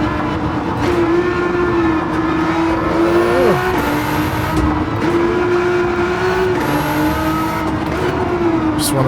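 Modded Nissan GT-R lapping the Nürburgring in a racing sim, its engine droning steadily loud throughout with rising and falling pitch through gear changes and corners, faint tire noise beneath, no talk.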